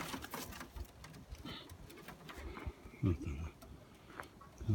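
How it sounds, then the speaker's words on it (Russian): A wounded pigeon kept in a dovecote gives low, soft coos close by, mixed with faint fluttering and shuffling, while someone talks over it. "Это раненая голубка."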